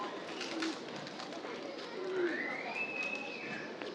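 Pigeons cooing at the Shah Jalal shrine in Sylhet, a few soft low coos standing out against a busy bed of crowd murmur and ambient noise, with voices in the background.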